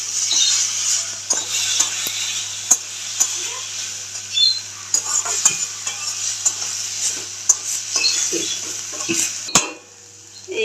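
Bitter gourd frying in a wok with mustard, a steady sizzle under repeated scraping and stirring clinks of a utensil against the pan, close and fairly loud, with a few sharp knocks near the end.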